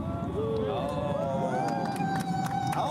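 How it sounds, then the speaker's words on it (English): Spectators at DFW airport clap and cheer for a Nighthawk aircraft, a lively crowd noise with shouting voices and excited hubbub close by and continuous throughout. "Everyone's clapping for the Nighthawk."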